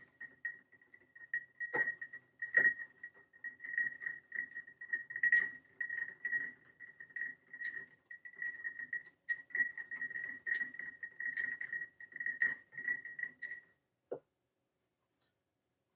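A spoon stirs a cocktail with chocolate bitters in a glass, giving a long run of bright, rapid clinks and ticks that ends abruptly, with a final single tap before silence.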